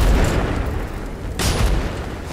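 A frag grenade explodes in Apex Legends Mobile, a deep booming blast with a second burst near the middle of a short, loud stretch of game noise.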